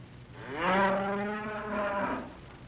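An ox gives one long, loud, close moo, rising and then falling over about two seconds, alone against a quiet background.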